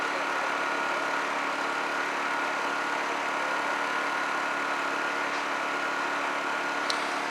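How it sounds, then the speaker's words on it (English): A generator runs steadily at a distance, a faint, even hum that stays unchanged throughout with no other sounds. "The generator right over there."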